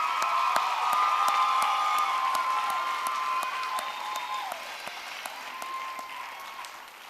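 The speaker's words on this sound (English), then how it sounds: "give one more round of applause for Abby Olsup and her great job with the title" Pageant audience applauding at a Miss K-State final round, steady clapping heard from a distance with a few faint cheers over a tonal background that drifts slightly lower as it fades.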